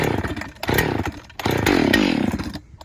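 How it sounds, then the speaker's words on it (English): An old, flooded two-stroke chainsaw engine sputters and revs in uneven bursts, cutting out briefly between pulls before roaring up again, close and loud. "we got this ancient chainsaw that he likes to use"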